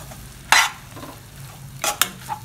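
Ingredients being stirred and fried in oil in a pan for a Kerala-style roasted-coconut chicken curry, with a few sharp bursts of scraping and sizzle separated by quieter stretches.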